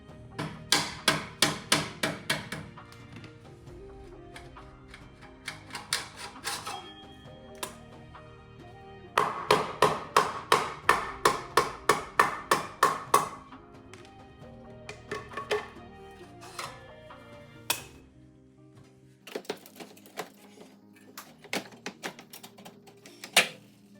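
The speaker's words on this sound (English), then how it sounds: "So you just need to get something back here that's blunt, smack it with a hammer." A hammer strikes the exhaust tips of a BMW F80/F82 M3/M4 to knock them off, sounding as bursts of rapid sharp metallic blows separated by short pauses, close and clear.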